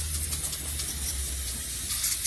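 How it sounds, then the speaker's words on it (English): Aerosol cleaner sprayed from a can through a straw nozzle onto a car's transmission pan: a steady, close hiss lasting the whole moment, with a low rumble underneath. "We're gonna go ahead and just spray the bottom of this pan."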